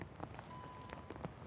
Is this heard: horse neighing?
no